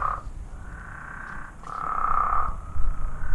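A frog croaks outdoors in a few drawn-out, buzzing calls separated by short pauses, fairly close and clear, with no voices.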